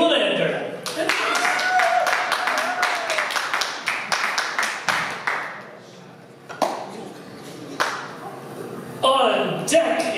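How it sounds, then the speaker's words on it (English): Scattered clapping from a small open mic bar audience breaks out in sharp, uneven bursts, dense at first and then thinning to a few separate claps, with voices and chatter mixed in. "applause for David Lenander"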